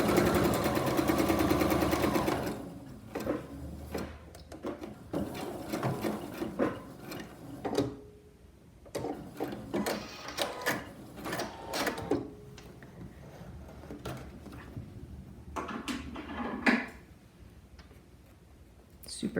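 A serger stitches through a fabric mask in short bursts, the rapid mechanical whirr starting and stopping between quieter pauses with light handling clicks, close and moderately loud.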